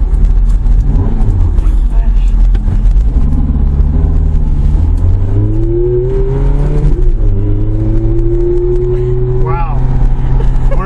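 A Ferrari F430 driven at low speed has its engine heard from inside the cabin as a loud, constant rumble that climbs in pitch as the throttle opens. Occasional speech from inside the car is heard over it.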